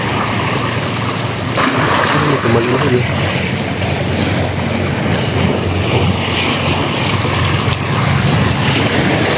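Ocean waves wash and churn continuously against rocks at a seaside fishing spot, loud and close with heavy wind buffeting, while people talk briefly under the noise.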